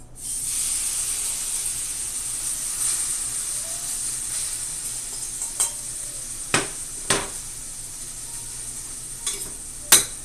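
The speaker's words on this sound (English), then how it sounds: "I'm actually going to heat this up. So I'll put this on the stove." Food warming in a pan on a stove gives a steady, soft hiss of sizzling throughout, broken by a few sharp clinks and taps of utensils toward the end.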